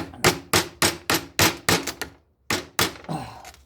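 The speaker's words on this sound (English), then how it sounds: "And I take another hammer and" A hammer strikes the Paris Rhone starter bendix of a Peugeot 504 or 505 in about ten sharp, close metallic blows at a steady rhythm, with one brief pause partway through.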